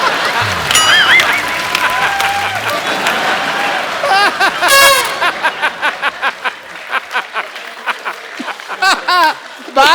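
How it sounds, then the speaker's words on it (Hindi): A studio audience at a Hindi comedy talk show applauds amid laughter and chuckles, with voices talking over it and rhythmic bursts of clapping and laughs toward the end. "आपने तालियां मारी ना अभी अभी"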